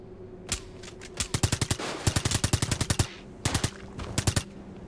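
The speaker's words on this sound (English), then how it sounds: "Shooting me with their guns, but can't really fault them for it." Enemies open fire on the player in the mech combat game Brigador, with loud clusters of rapid gunshots in several bursts, each a quick run of sharp cracks separated by brief pauses.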